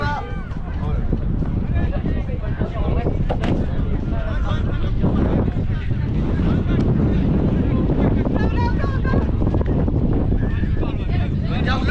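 Wind buffets the microphone outdoors at a disc match in Troyes, a loud, rumbling gusty roar that runs throughout as people talk and shout over it.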